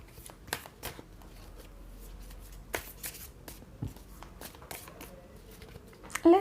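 Tarot cards shuffled and drawn by hand, a run of crisp, irregular riffling snaps and flicks close up, with short pauses between bursts and a brief voice at the very end.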